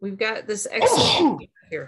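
A single sneeze from a participant in an online business analysis study group meeting, loud and close, bursting out between spoken remarks.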